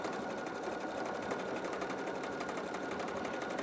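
A Pfaff expression 3.5 sewing machine stitches a satin-stitch triangular bartack, its needle running in a fast, steady mechanical patter, close and continuous with no talking.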